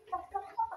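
Chickens clucking close by in a poultry pen, a few short bright clucks in quick succession, brief and clear with no talk.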